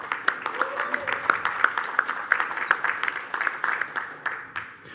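Audience applause at a forum on industrial hemp in São Paulo, a steady patter of clapping from a moderate-sized crowd lasting several seconds, fairly close and evenly sustained before tapering slightly.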